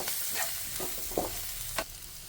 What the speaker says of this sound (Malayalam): ഇനി ഇത് നല്ലതുപോലെ ഒന്ന് മിക്സ് ചെയ്യാം